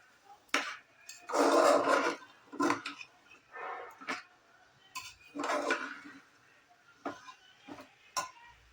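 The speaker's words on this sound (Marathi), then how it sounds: "तांदूळ घातल्यानंतर असं चांगलं सगळं परतून घ्यायचं आहे" Rice being sautéed in a pan for a green spinach pulao, with a series of scraping, clinking stirs of a utensil against the pan, close and fairly loud, in irregular bursts with short pauses between.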